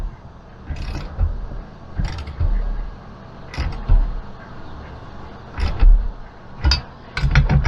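Lock nuts tightened on a kit, with intermittent creaking and ratcheting mechanical turns, close up, several separate bursts, no talk.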